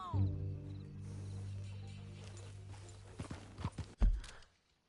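A few horse hooves clip-clop in short uneven beats in the game Red Dead Redemption II after a sustained low hum, then stop abruptly as everything falls silent.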